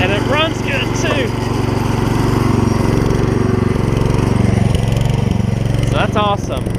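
A Gravely 16 professional walk-behind mower engine runs steadily and loud throughout, with a continuous throbbing drone and someone talking over it.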